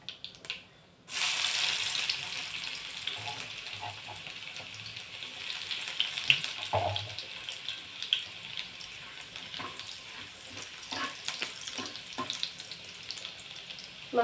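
Chopped garlic fries in hot oil with mustard seeds, giving a loud, steady sizzle that starts abruptly and holds throughout, with occasional pops and crackles and no talking.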